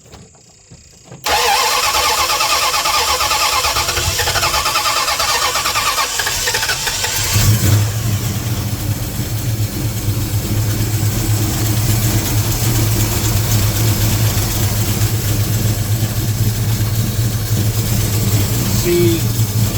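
A 1973 Dodge Dart engine cranks and catches after a quiet moment, then settles into a loud, steady idle with a loose belt flapping against the running engine and voices talking nearby.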